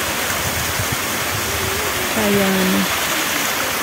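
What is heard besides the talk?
waterfall in the countryside during rain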